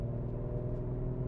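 An Audi S5 Sportback from 2018 idles at a low, steady rumble while warming up, heard from inside the cabin with no talking.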